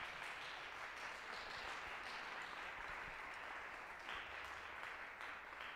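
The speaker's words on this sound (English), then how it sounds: "So we, yes, applause," An audience at a commercial music ensemble concert applauds quietly and steadily throughout, a soft, even patter of many hands heard from a distance.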